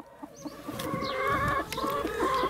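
A broody hen clucks and grumbles close by in a coop, a run of low clucks with a rising squawk, no talk.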